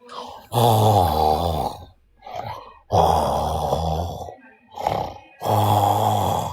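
A person mimicking snoring with loud, drawn-out throaty rasps, three long ones alternating with shorter breathy intakes in a slow, steady rhythm.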